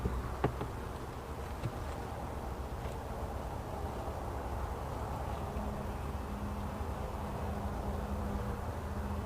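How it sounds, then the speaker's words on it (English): Faint, steady bee buzzing from a small cluster inside a Layens beehive, a low continuous drone under broadband background hiss with a couple of brief ticks, no talk. "There's a small amount of bees right there."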